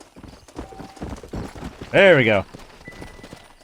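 Horse hooves clip-clop in the Red Dead Redemption video game, a steady trotting rhythm close by, with a loud whinny partway through and someone speaking briefly.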